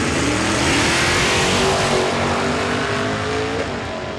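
Pickup truck and Camaro launching in a drag race at a motorsports park: loud, sustained engine roar with rising revs and a hint of tire squeal, steady and close throughout with no talk.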